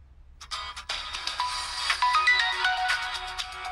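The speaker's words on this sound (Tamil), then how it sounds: "ஃபோனில் வந்தான்டா. கால் பண்ணிட்டான் அவன்" A mobile phone ringtone plays in a Tamil movie scene, a bright, loud electronic melody starting abruptly and repeating steadily without any talking.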